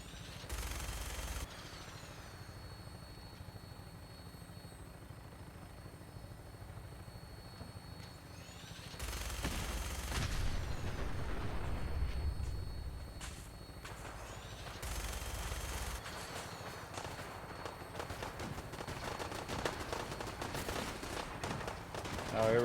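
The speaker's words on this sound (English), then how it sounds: "Something's shooting at me." Gunfire in Fallout 4 sounds in sharp bursts amid a constant helicopter-like rotor drone, fairly faint and intermittent across the stretch.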